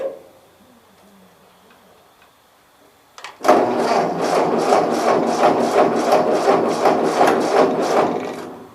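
A 1941 Ford 9N tractor, converted to 12 volts, sits quiet before its starter kicks in, then cranks with a loud, fast, even chugging rhythm for several seconds without catching.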